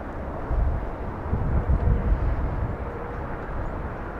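A Boeing 787 Dreamliner at LAX gives off a steady low rumble of jet engine noise, moderately loud and without talk, swelling slightly partway through.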